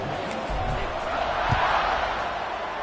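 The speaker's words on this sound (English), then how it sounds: "this crowd is buzzing after that last score" Stadium crowd in an NCAA Football 26 game between Miami and Penn State, a steady loud buzz of many voices with no break, spread wide across the stands.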